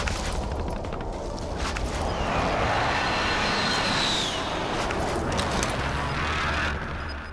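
A propeller airplane passes overhead in a battle royale shooter game, a steady engine drone that swells and then fades over a constant layer of game ambience.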